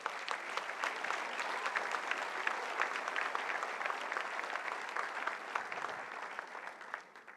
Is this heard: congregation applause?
yes